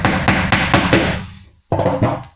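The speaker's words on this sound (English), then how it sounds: "hammer that home, and it spreads that little nub that went in the casement there" Metal hammer blows drive the central pin of a one-piece kitchen cabinet leg into place: five sharp, evenly spaced knocks, a brief pause, then one more hit, close and loud.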